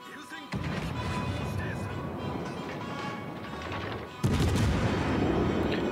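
Naval gun volleys booming in a World of Warships: Legends battle, a dense continuous barrage of rumbling fire with a sharp louder salvo near the end, with speech faintly underneath.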